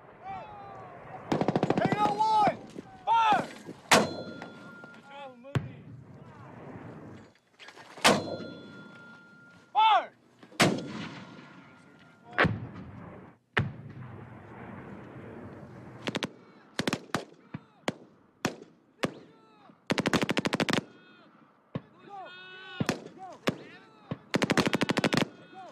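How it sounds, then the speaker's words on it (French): Live-fire gunshots and artillery during a military exercise taking a hill: sharp bursts of rapid machine-gun fire and single loud reports, some in clustered volleys, separated by short quiet gaps, with a few distant voices between. "Les tirs se font à balles réelles."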